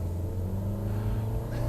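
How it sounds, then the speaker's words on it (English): A racy 1500 VTEC engine in a Honda Jazz 1.5 Sport revs steadily with a loud, close, continuous rumble and sustained harmonic drone, with no talk over it. "That's pretty much the noise this racy 1500 VTEC motor will make if you poke it with a stick."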